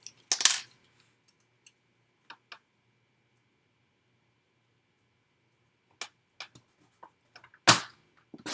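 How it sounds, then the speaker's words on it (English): A paper trimmer slices a card sentiment in a quiet room: a few sharp, close cutting swipes and small ticks, scattered and brief, with long silences between them. "I'm just cutting my sentiment out with my trimmer."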